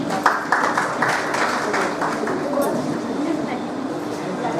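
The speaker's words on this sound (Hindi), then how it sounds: "तालियां बजा सकते हैं और उसमें कंजूसी ना करें" An audience at a public gathering in Chhindwara breaks into applause, a dense patter of clapping that is strongest at the start and then fades into steady, quieter clapping mixed with murmuring voices.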